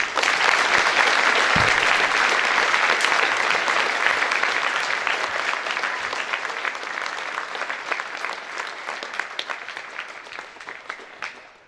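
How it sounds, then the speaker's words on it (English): A Veterans Day assembly audience applauds the veterans seated before them, a full, sustained round of many hands clapping that stays loud, then gradually thins and tapers toward the end. "our veterans that sit here before us deserve a round of applause"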